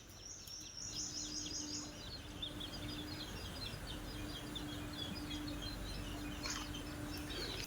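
Faint, high chirps repeat in quick clusters against a steady low hum, with no voices.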